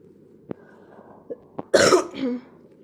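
A single person gives a short, harsh cough burst with a throaty tail, preceded by a few faint clicks, in a quiet setting at night.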